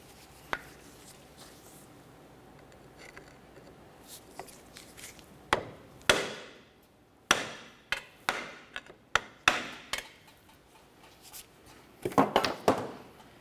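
A hammer strikes a pry bar to drive a CV axle out of a 2004-2006 Scion xB transmission, giving sharp metallic blows at an irregular pace, several in quick succession near the end, over quiet garage background.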